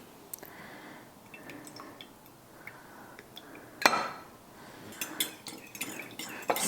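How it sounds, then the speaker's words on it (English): A spoon stirring Tapatio hot sauce into milk in a dish, giving soft clinks and liquid swishes with one sharper clatter midway and scattered taps toward the end, close and fairly quiet. "Stir that up."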